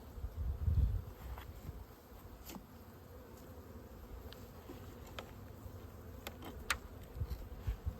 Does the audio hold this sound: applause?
no